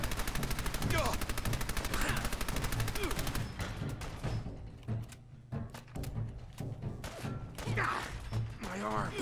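Rapid automatic gunfire from video game weapons rattles loud and close for the first few seconds, then breaks into scattered bursts and single shots with mechanical clunks, while a player talks over parts of it.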